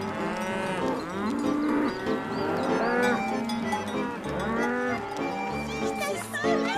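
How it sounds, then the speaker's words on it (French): Farm cows mooing as they are brought in from the fields, several long, loud, overlapping lowing calls that follow one another with no break. "Parfois, c'est elle qui rentrait les vaches."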